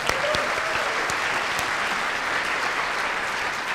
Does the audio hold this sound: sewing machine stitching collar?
no